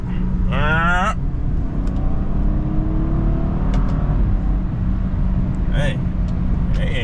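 A BMW F30 with downpipes accelerates in a 60 roll, heard from inside as a steady loud engine drone with rising tones, buried in road and cabin noise; a voice speaks at the start.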